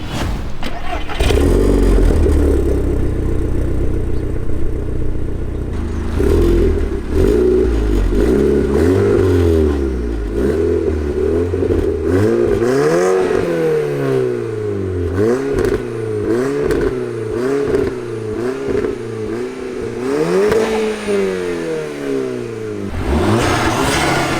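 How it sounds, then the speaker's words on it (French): A stage 2+ tuned VW Scirocco R starts up close by and idles roughly, then is blipped through a series of sharp rising and falling revs, loud and throaty throughout, with faint voices in the background. "Après un petit démarrage et puis on va faire un petit tour."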